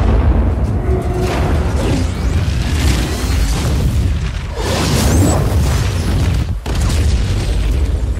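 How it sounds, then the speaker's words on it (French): A large explosion in the video game Just Cause 4 booms loudly. Deep rumbling blasts and crackling debris keep going throughout with no letup. "Et ça va exploser."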